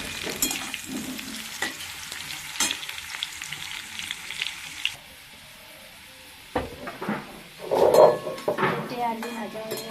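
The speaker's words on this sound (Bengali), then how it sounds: "পেঁপেটা ভাজা হচ্ছে, আলু পেঁপে ভাজা হচ্ছে" Potato and papaya pieces frying in oil in a pan, a steady sizzle broken by stirring scrapes and clinks of a utensil, with a brief quiet pause midway.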